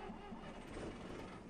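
A bus engine cranking and catching in the OMSI 2 bus simulator, a steady mid-pitched mechanical rumble running through the whole short stretch at moderate level, with no talking.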